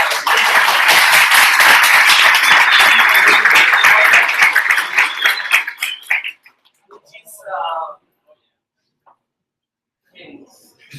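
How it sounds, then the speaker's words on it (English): An audience at a PHP conference talk claps and applauds loudly for several seconds, then the clapping fades out into near silence with a few scattered sounds. "So please applause."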